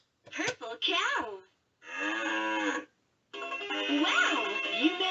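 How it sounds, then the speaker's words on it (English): A LeapFrog Fridge Farm toy plays an electronic cow moo in three close, loud bursts separated by short silences, each a drawn-out, wavering call. "Hear a cow sound."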